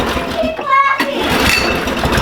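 A two-stroke engine on a Ski-Doo ZR120 kids' snowmobile, freshly fueled during a carburetor repair, sputters and catches, then keeps running loudly and close by with a rough buzz, while a voice is heard briefly over it.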